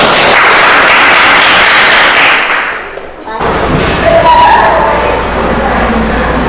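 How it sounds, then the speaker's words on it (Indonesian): A group in a classroom gives a burst of hand clapping for their classmates' group, loud and close, fading briefly before resuming with a voice speaking over continued noise. "kasih tepuk tangan untuk kelompok"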